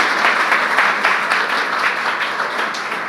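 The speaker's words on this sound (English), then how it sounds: "All right, big round of applause." A conference audience applauds after a talk on AI in medicine, a dense, steady burst of many hands clapping that fades slightly toward the end.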